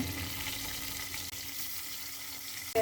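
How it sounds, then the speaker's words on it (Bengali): Yardlong beans frying in a wok previously used for shrimp, a steady close sizzle with a thin hum underneath and a brief clatter right at the end. "প্রথমে আমি বরবটিটা ভেজে নেব। যে কড়াইয়ে চিংড়ি মাছ ভেজেছিলাম ওই কড়াইয়ে বরবটি দিলাম।"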